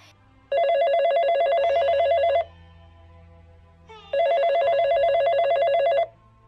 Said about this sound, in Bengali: সাবান নিয়ে বের হতেই কানে আসে মোবাইলের রিংটোন